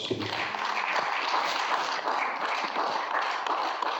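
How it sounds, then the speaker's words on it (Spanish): Congregation clapping in praise at a lively church service, a dense continuous patter of many hands filling the room at steady strength with no break. "Den Aleluya. palmas al Señor."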